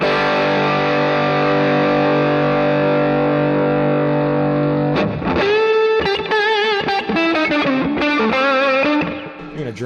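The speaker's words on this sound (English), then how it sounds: "So it delivers in the distortion channel. So I'm going to show that to you right now." A guitar plays through the distortion channel of a 2020 Marshall Mini Jubilee 25/25C amp, a long sustained chord ringing out and then a busy run of loud, saturated notes, with no talking.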